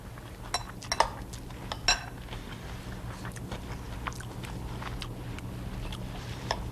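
Grain and vegetables stirred in a bowl in a kitchen: scattered light clinks and scrapes of utensil against dish, a couple of sharper knocks early on, over a steady low background hum.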